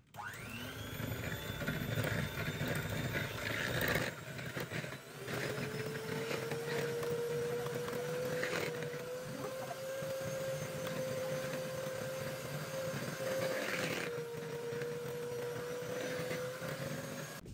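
An electric mixer beats cake batter with sugar, vanilla sugar and a pinch of salt, a steady close whirring drone whose pitch wavers slightly as the beaters work, running continuously without speech.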